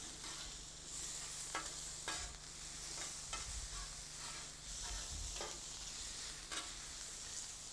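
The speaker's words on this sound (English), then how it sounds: "So just keep tossing them around." Prawns sizzle in a frying pan and are tossed around repeatedly, each toss bringing a soft scraping rush over a continuous hiss of frying, fairly quiet and close, with no talk.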